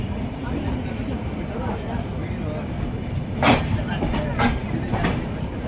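Karaikal–Mumbai LTT Express pulling out of Chennai Egmore, heard from inside a general coach: steady rolling rumble with a few rhythmic wheel clacks near the end, voices talking over it.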